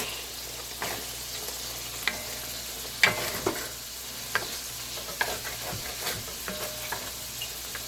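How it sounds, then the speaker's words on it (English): Risotto with a generous amount of grated Parmesan being stirred in a pot in a home kitchen, giving soft scraping strokes and occasional louder clinks of the spoon over a faint, steady background. "I'm going to stir it up."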